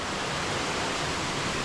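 Creek water flowing over slippery rocks in the Ouachita National Forest, a steady, broadband rushing hiss, close and unbroken with no voices.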